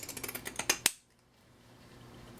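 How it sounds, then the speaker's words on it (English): Scissors snip through fabric near a zipper on a sewn pencil pouch, a quick run of about eight crisp, close cuts speeding up before stopping, then quiet room tone. "So I just leave it to my scissors for this job."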